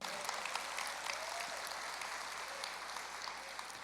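A crowd at a church worship service claps steadily throughout, a soft continuous wash of applause heard from some distance.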